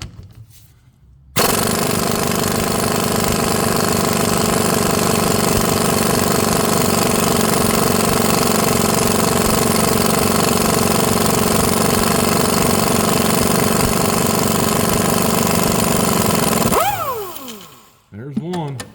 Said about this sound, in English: We're gonna use an impact on it to get them out.